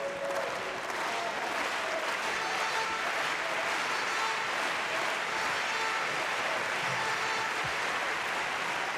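Sustained applause from a tennis crowd at a Davis Cup doubles match fills the space, a dense, even roar of clapping that holds steady throughout with no voices over it.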